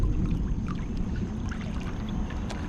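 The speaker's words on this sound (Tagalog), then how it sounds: "Banggaan ng tubig dun." River water rushing and splashing against a small boat, a constant churning wash with scattered brighter splashes and a low rumble, loud and close, no talk.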